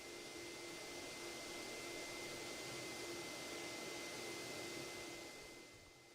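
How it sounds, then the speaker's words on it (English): A blow dryer runs at steady high power on a corded dog, a constant whirring hiss with a faint tonal whine that eases slightly at the end. "and then it's off to the blow dryer."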